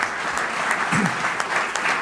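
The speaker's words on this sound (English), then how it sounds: "request to give him a customary round of applause" A crowd at a Rotary Club of Bombay meeting claps steadily throughout, a dense wash of applause with no break.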